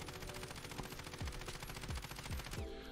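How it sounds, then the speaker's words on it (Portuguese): Ram 7 assault rifle in Call of Duty Warzone firing a sustained burst into a wall, a rapid even stream of close, loud shots running about two and a half seconds before cutting off. "Então vamos atirar uma rajada aqui na parede só para a gente marcar."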